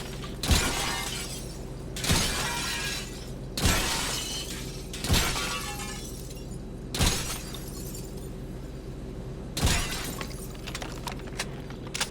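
Glass shattering in an Xbox racing game, heard as six sharp crashing bursts spaced about one to two seconds apart over a steady engine drone, each loud and bright with a brief decaying tail.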